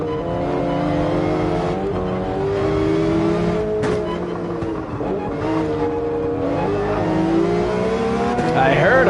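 GT3 race car in a racing video game at Road Atlanta, its engine droning loudly and steadily with rising and falling pitch as gears change, while another car passes close by.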